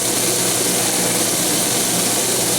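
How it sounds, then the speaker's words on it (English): Kitchen exhaust fan running during cooking, a steady broadband whoosh with a faint motor drone, constant and close throughout with no talk. "As you hear, the exhaust fan is on"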